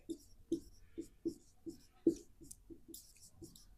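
Pen writing by hand on paper during a maths lesson: a quiet run of short scratchy strokes and taps in an irregular rhythm, with no talking.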